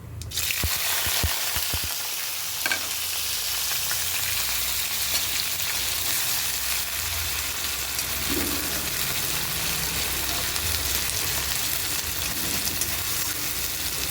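Crushed onion, green chili, garlic and ginger hit hot oil with white cumin in a pan while cooking a gathi kochu taro dish, giving a steady, loud, continuous sizzle after a brief clatter at the start, with no voices.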